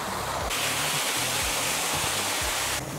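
A garden fountain shaped like a waterfall at Mapro Garden in Lonavala pours in a loud, steady broadband rush of falling water, close by and continuous, with a low rumble beneath.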